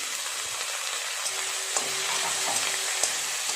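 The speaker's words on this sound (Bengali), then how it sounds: "পেঁয়াজটা একটু ভালো করে নেড়ে চেড়ে লাল করে ভেজে নিতে হবে দিয়ে দেব কুচিয়ে রাখা টমেটো" Onion and chopped tomato fry in a pan with a steady soft sizzle and a few knocks of a spoon stirring, close and fairly quiet.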